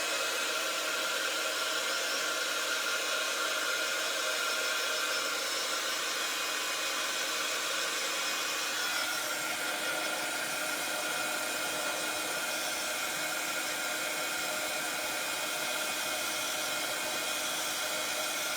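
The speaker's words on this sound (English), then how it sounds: "I will just give that a little whiz with my heat gun just to dry it off" Heat gun blowing hot air to dry a craft stamp, a steady loud whooshing fan roar that runs continuously from start to finish with a slight shift in tone partway through.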